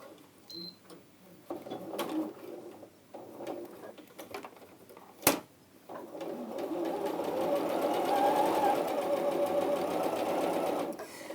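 A sewing machine stitches across fabric squares, first in short stop-start bursts with a sharp click, then in a long continuous close run of rapid needle chatter.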